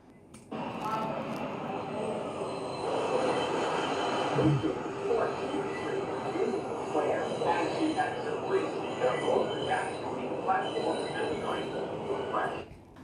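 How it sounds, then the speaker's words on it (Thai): A steady rumbling train passing close by, a continuous rolling roar with faint clatter lasting throughout, fairly loud and with no talking. "เสียงรถไฟยังจะเข้าไปอยู่มากน้อยแค่ไหนนะครับ"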